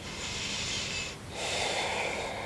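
Deep yogic breathing during a home yoga session, two long airy exhales through the nose, each sustained about a second with a brief pause between, close and steady with no talking.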